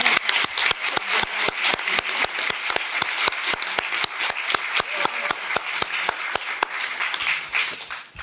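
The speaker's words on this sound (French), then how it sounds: "Je demandais de les applaudir à la fin," Audience applause at a film festival closing ceremony, with steady, evenly spaced claps close to the microphone and a faint murmur of voices underneath.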